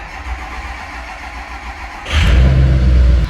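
A Ford F350 diesel pickup cranks and fires on a cold start, the starter whirring briefly before the engine catches into a loud, deep, rumbling idle that holds steady, close by with no talking.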